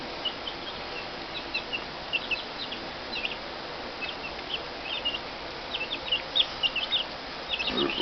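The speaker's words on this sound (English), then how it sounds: "We'll go check on the other chickens now." Chickens on a windy homestead cluck in soft, scattered bursts beneath a constant rush of wind noise, a little louder and busier toward the end, with no talking.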